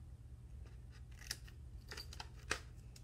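Scissors cut into the tabs of a small paper basket, making a few quiet, sharp snips at irregular intervals close by in a quiet room.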